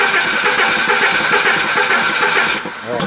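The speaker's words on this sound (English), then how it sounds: "let me crank this up for you and have you hear the sound that it's making" A Nissan forklift with a K21 engine cranking without starting, a loud, continuous rhythmic churning of the starter that keeps going for about two and a half seconds before dropping off.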